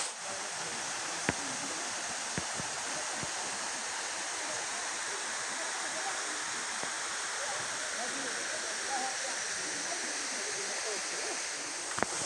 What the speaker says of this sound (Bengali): বন্ধুরা আমরা এখন আছি ঠিক সানাঘাগরা ওয়াটারফলসের ঠিক সামনে